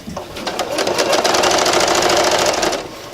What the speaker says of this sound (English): We're going to sew a little ways down here.